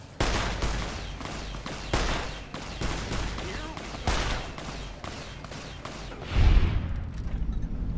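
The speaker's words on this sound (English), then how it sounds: "Shoot him with Lucky. Shoot him in the face." Gunfire in Fallout: New Vegas, including the Lucky revolver, rings out as a rapid string of sharp shots with a heavier thump near the end, set against a busy battle with other weapons firing.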